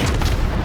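Deep, dense rumbling booms of naval guns and shell impacts in World of Warships ranked play, a continuous low roar filling the short moment with no pauses.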